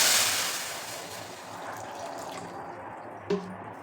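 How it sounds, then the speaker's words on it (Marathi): Water is poured into a kadhai, a soft, steady splashing trickle that tapers off with a small clink near the end, quiet and close with no talking. "कढई ठेवलेली त्यामध्ये पाणी घालायचं"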